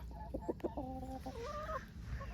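Chickens in a potato garden cluck and give a few short squawks close by, a quick run of calls over a faint outdoor background.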